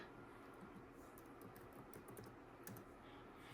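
Light, rapid keystrokes patter on a computer keyboard as a file name is typed for saving exported patterns, faint and steady over a soft background hiss, with no talk.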